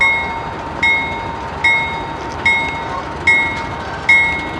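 A steel bell on a railroad locomotive at a freight yard rings in slow, even strokes, five or six clear metallic clangs each fading before the next, close and prominent with no talk.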